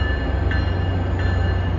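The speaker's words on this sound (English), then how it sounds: "This is train 812 for Providence." Passenger train 812 bound for Providence rolling past, a steady, loud rumble of wheels and cars with a low drone, no horn or voices.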